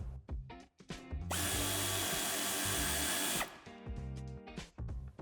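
A power tool removes a nut on an Audi A4 Avant during a tow hitch fitting. A loud continuous whirring burst runs about two seconds, framed by clanks and handling knocks close by.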